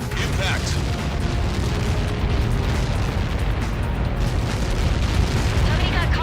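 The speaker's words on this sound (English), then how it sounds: "Somebody got caught in that explosion." A huge explosion in the flight combat game Ace Combat 7 rolls out as a sustained deep, booming roar that stays loud and dense throughout, with crackling bursts layered over the low rumble.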